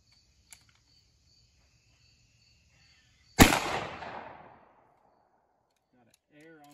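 A single 12 gauge shotgun fires a Federal slug, one sharp loud blast with a fading echo tail, preceded by a faint click and some near silence, with a brief voice or noise starting at the end.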